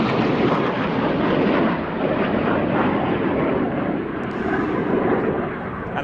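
Frecce Tricolori jets trailing heavy smoke fly past at the Royal International Air Tattoo, a loud, rumbling roar that holds strong and then eases slightly as the formation passes.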